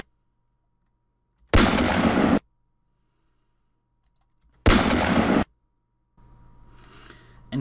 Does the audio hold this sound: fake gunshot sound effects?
yes